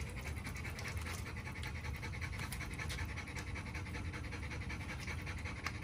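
A big XL Pitbull pants steadily and rapidly up close during an early-morning wash, the quick breaths running continuously without any talk over them.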